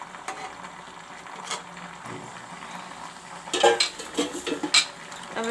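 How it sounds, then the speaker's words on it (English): Metal lid placed onto a cooking pot of mutton curry, a short cluster of clinks and clattering rattles near the end, close and fairly loud over a quiet kitchen background. "I will just put the cover on like this."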